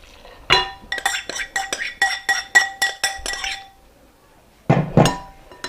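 Muffin mix ingredients being mixed in a glass bowl: a rapid series of bright clinks and taps from a utensil against the bowl, then a pause and a couple of heavier knocks.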